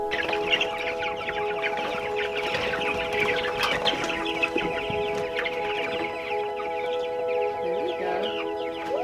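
Meat chickens cluck and chatter steadily as a flock while being moved out of a shop into a makeshift chicken run, with a constant hum underneath and occasional knocks.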